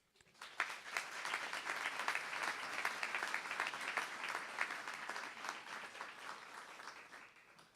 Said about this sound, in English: I think everyone in this room deserves a round of applause.